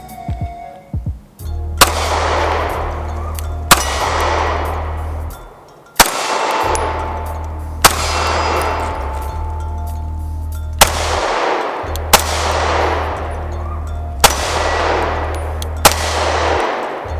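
An STI Staccato C carry pistol fires single shots at a steady pace of about one every two seconds, each crack loud and close with a ringing decay over a constant low hum.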